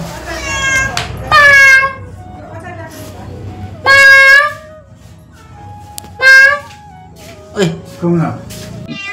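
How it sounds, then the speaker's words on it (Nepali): Cats meow loudly and close, several separate drawn-out cries spaced across the clip, with quieter background murmur between them. "दुईवटा बिरालो भयो यहाँ देख्न सक्नुहुन्छ है"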